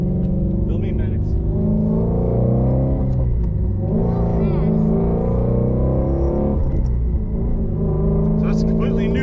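A 2019 Shelby GT350 Mustang with a Tremec manual gearbox pulls hard from inside the car, its engine note climbing through repeated rev rises and dips between gear changes, loud and close under a talking voice.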